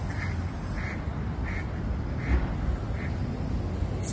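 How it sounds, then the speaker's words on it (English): Geese visiting by the Elbow River call out in a few short, faint honks spaced about every half second to second, heard at a distance over steady outdoor rumble. "Check out some geese visiting today."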